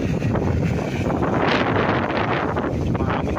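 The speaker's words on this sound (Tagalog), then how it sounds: "Medyo mahangin po, umuulan na po doon sa bandaron." Steady, loud wind buffets the microphone beside a one-hectare rice field next to a main road in Victoria, Laguna, a continuous broadband roar with gusts swelling midway and no voices.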